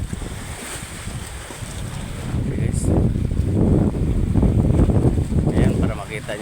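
Strong wind buffets the microphone at sea beside a tied fishing boat as waves wash and slap against the hull, growing louder midway, with people talking.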